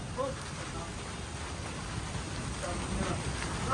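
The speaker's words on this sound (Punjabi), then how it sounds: "ਦੇਖ ਲਓ ਮੀਂਹ ਕਿੰਨਾ ਪੈ ਜਾਂਦਾ" Heavy rain pours steadily during a sudden storm, a dense continuous hiss of drops on surfaces, close and fairly loud throughout.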